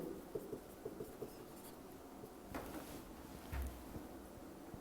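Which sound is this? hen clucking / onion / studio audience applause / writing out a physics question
writing out a physics question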